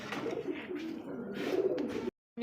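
Pigeons at a market selling local and foreign breeds coo in soft, low, rolling calls, close and fairly loud, before the sound cuts off abruptly.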